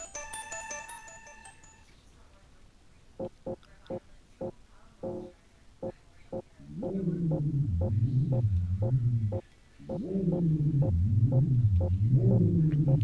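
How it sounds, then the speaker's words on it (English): Sounds of climbing a ladder in a video game: a brief electronic tone, then a string of evenly spaced knocks, followed by a loud wavering, warbling drone that cuts out briefly and resumes. "Ladder makes kind of a strange noise when you climb up and down it."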